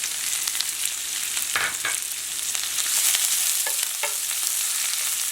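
Small-cut zucchini and shredded carrot sizzling in a pan, a steady bright frying hiss with a few stirring scrapes, close up and without talk.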